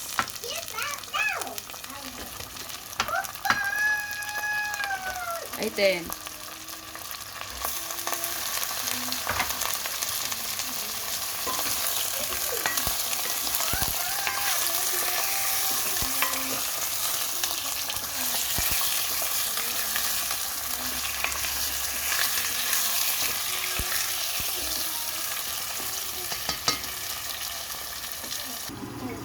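Loud, constant sizzling of chicken frying in a pan for tinola, with occasional stirring clatter and a brief voice speaking over it.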